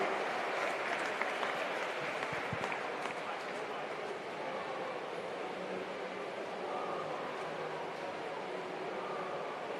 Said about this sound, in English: Round of applause for Lewis Clearbet, ladies and gentlemen, New Zealand title holder